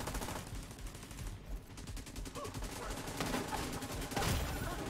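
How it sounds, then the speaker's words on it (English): Dense automatic gunfire from the shooter game The Division rattles continuously in rapid bursts, loud and close, with the barrage swelling toward the end. "I'm getting shot from everywhere."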